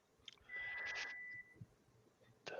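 Microwave oven beeping, a single sustained electronic tone heard faintly in a quiet room, followed by a short second beep at the close.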